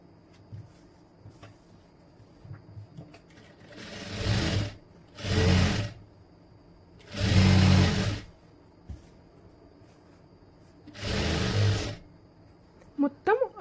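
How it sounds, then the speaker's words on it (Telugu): A sewing machine stitches lining and main fabric together for a boat-neck designer dress in four separate runs of a few seconds each, with quiet pauses between them and faint room noise. "ఇప్పుడు లైనింగ్ మెయిన్ ఫ్యాబ్రిక్ కలిపి స్టిచ్ వేసేసుకోండి."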